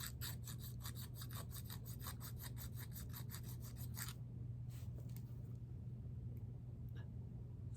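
A hand file scrapes flat spots on a part from a Penn 113 4/0 Senator fishing reel in quick, even back-and-forth strokes for about four seconds. The sound is faint, over a constant low hum, then fades to a few scattered scrapes.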